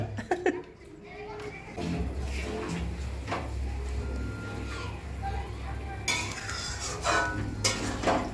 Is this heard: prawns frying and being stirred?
yes